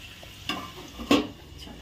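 Marinated meat cooks in a pan while being stirred, with a soft sizzle and two sharper scraping knocks of a utensil against the metal, quiet and close, without talk.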